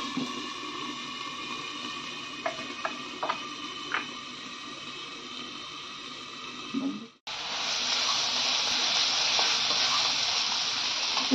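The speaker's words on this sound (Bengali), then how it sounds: "কম আঁচে ঢাকা দিয়ে ভালো করে ভেজে নেব।" Fish curry spices fry under a lid on low heat for a Bengali aar fish dish, giving a steady hiss and sizzle with a few soft clinks, then a louder, brighter sizzle after a brief break.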